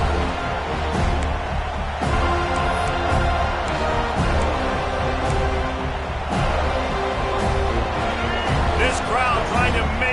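Dense roar of an American football stadium crowd, loud and continuous throughout, with a commentator's voice over the noise.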